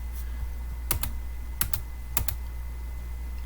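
A TI-84 graphing calculator's keys are pressed in three quick pairs of close, faint clicks over a steady low hum, with no talking.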